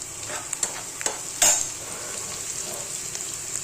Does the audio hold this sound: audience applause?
no